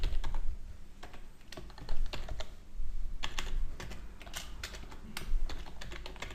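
Keys clatter on a computer keyboard in an irregular run of close, crisp clicks with short pauses, with no voices over it.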